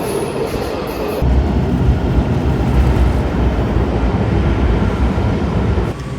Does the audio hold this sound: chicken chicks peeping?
no